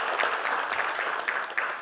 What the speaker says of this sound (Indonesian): kasih tepuk tangan dulu nih buat teman-teman kalian